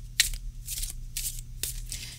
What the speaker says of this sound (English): So we'll just do a little shuffle.